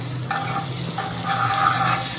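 Butter melting in a heated pan over a low gas flame, a steady close sizzle and crackle with a low hum underneath, heard alone without talk.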